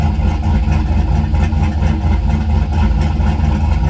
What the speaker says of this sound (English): when the cutout opens, it definitely chops pretty good